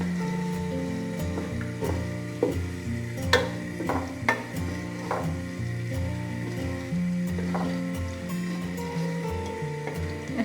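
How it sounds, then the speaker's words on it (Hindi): Chopped onions frying in hot oil over a medium flame, a steady sizzle with scattered stirring clacks and scrapes from a spoon in the pan, fairly close and continuous without any talk. "ऑयल गर्म हो गया। अब हम इसमें प्याज ऐड करेंगे। मीडियम फ्लेम पे हमने प्याज को लाइट गोल्डन करना है।"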